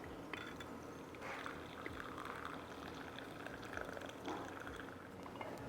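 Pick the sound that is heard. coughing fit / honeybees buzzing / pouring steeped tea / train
pouring steeped tea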